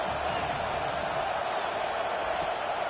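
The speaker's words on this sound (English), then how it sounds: "Decibels rising as the crowd gets behind this defense on 3rd down." Stadium crowd roaring for the defense on third down at an American football game, a steady, dense wash of noise holding at an even level throughout, with no distinct voices rising above it.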